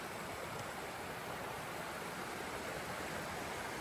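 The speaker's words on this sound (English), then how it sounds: "the creek's running right now" Steady broadband rush of a creek running beside a hiking trail on San Gorgonio Mountain, continuous and close with no breaks, no voices over it.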